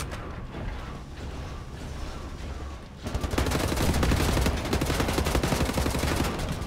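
Sustained rapid turret gunfire in Wolfenstein: The New Order, a dense continuous rattle that swells louder partway through and keeps hammering without a break.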